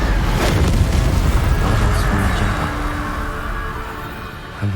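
Incendio fire spell cast in Hogwarts Legacy: a loud, fiery whooshing burst with a deep rumbling boom that swells at once and slowly fades over several seconds.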